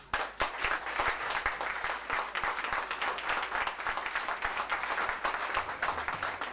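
An audience applauding at a talk on the IAPI, producing sustained dense clapping with a few sharper individual claps standing out, moderately loud and steady throughout.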